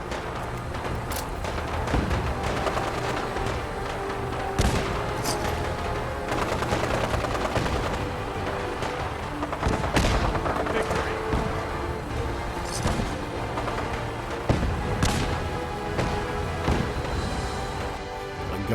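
Gunfire in Fallout 4, steady rattling shots and heavier thuds recurring over a constant game soundscape, loud and close, with louder bursts spaced every few seconds.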